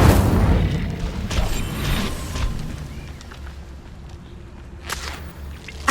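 Incendio fire spell cast in Hogwarts Legacy, a loud whooshing, crackling burst that opens the clip and then fades into a low rumble, with a second brief flare near the end.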